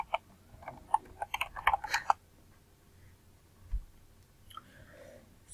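Computer keyboard keys tapped in a short run of quick clicks, close and fairly quiet, followed by a few isolated faint taps and a softer click near the end.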